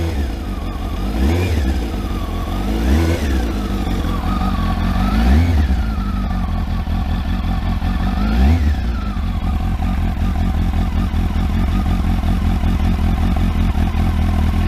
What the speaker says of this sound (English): I'll rev it a little bit.